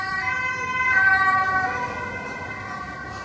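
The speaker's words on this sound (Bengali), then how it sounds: "অ্যাম্বুলেন্স" An ambulance siren wails with a steady tone, swelling louder in the middle and fading slightly, heard alone with traffic rumble beneath.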